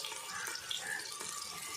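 Water running steadily from a kitchen tap in a home cooking setting, a soft, even hiss and splash for under two seconds.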